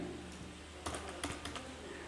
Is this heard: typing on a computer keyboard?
yes